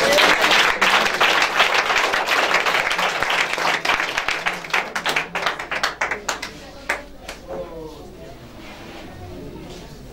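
A church congregation claps loudly and continuously, a dense, fast applause that thins out into scattered claps and fades, with voices speaking over it.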